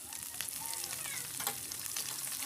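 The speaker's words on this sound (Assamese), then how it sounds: "আৰু এতিয়া প্ৰায় মোৰ মাছখিনি ভাজি হৈয়ে গৈছে।" Fish pieces fry in a pan for fish curry, giving a steady, close sizzle with occasional stirring and scraping over the dense crackle. No talking.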